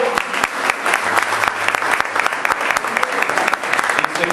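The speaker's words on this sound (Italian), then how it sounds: "Un applauso." Steady applause from an audience at a Ferrari club gathering, dense clapping filling the room for about four seconds with a few louder individual claps standing out.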